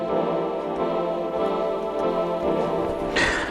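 A Waldorf M synthesizer plays multi-layered coil sample 72 as a dense, sustained, buzzy tone that holds steady throughout, with a brighter hiss swelling near the end.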